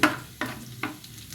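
Garlic browning in a pan gives soft sizzles, broken by three sharp scraping stirs in quick succession, close and fairly quiet.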